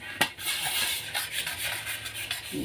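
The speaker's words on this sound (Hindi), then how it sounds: "अभी करके रही मैं बर्तन" Dishes, pots and utensils being washed in a home kitchen, with continuous scrubbing and rubbing plus a few sharp metallic clinks of steel vessels, close and moderately loud, with no talking.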